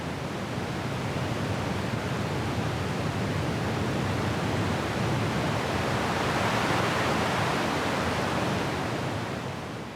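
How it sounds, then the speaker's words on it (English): Steady broadband hiss from a no-input mixing board feeding back its own internal noise, with the high end cut so it sounds dull and rushing. Continuous and even for the whole stretch, loud and close, no voices. "Here I am cutting the highs out of the noise."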